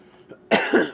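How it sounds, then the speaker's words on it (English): A single sharp cough close to the mic, loud and abrupt after a brief quiet moment, with a second rough burst trailing off. "Pardon me, that cough still lingers, it's annoying."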